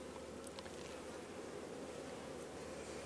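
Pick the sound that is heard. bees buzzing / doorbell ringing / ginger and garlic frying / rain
bees buzzing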